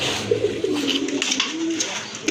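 Pigeons coo in a loft where birds are kept for sale, a low rolling murmur that runs steadily through the short stretch, fairly close, with faint voices and room noise beneath.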